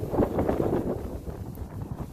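Low, buffeting rumble of wind hitting a microphone, gusting unevenly through the whole moment, outdoors beside a 2005 Dodge Neon 2.0L with a bad head gasket.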